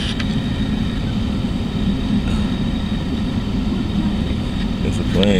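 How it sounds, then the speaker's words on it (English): An airplane flies overhead in a loud, steady broadband rumble that holds unbroken throughout, with a few faint outdoor sounds over it. "now you got a plane coming up here at the top"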